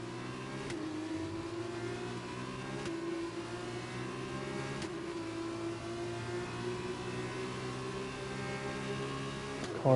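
A Formula 1 car engine in a driver career racing game drones steadily at high revs, close and continuous, its pitch shifting slightly through gear changes with brief shift clicks and no talking.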